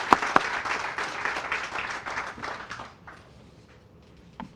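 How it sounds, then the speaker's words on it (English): Applause for the mayor at a groundbreaking ceremony for an energy facility, a dense burst of clapping that holds steady for about three seconds and then fades out quickly, with a single clap near the end. "I want to give an applause to Mayor and the city of Linden."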